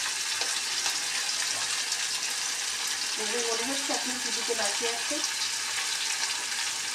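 Tangra fish fry in a pan with a continuous bright sizzle, close and even, while someone talks over it partway through.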